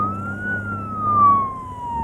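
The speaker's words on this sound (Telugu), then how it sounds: "అది పోలీస్ వాన్ కదరా, అంబులెన్స్" An ambulance siren wails in a steady, slowly rising then falling tone, loud and close, over a low rumble of traffic.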